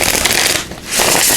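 A deck of tarot cards riffle-shuffled up close, a crisp fluttering rush that briefly pauses, then resumes just as loudly.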